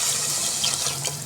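Tamarind water pours into a pan of white chickpea curry, a steady, close, hissing trickle of liquid lasting about a second with no talk.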